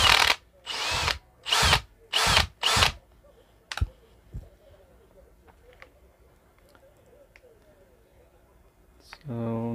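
A cordless drill at its faster gear 2 setting whirs in four or five short, loud bursts close by, followed by a quiet stretch with faint clicks and a brief voice at the end.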